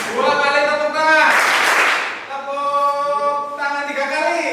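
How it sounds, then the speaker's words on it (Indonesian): A classroom group of students at a vocational high school claps twice together in unison, a brief sharp burst between stretches of nearby talking. "2 kali tepuk tangan"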